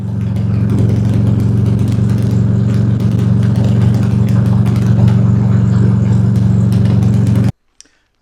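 Motorcycle engine recorded through an Insta360 Mic Air with noise reduction on, a loud steady low running drone with faint popping, holding for about seven seconds before cutting off abruptly into near silence.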